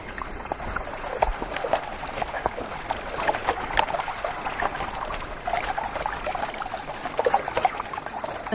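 Water trickles and flows steadily, a continuous gentle babbling with small splashes throughout.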